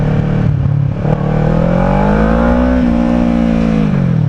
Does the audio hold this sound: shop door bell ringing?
no